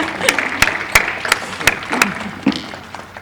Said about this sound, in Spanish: Otro aplauso, yo voy a aplaudir cada vez que lea Rosa